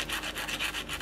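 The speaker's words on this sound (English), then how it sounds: "it is actually sanding down pretty nicely" A repaired section of an Ork Flying Coffin bomber model is sanded down with steady, rapid back-and-forth rasping strokes, close and continuous with no talk.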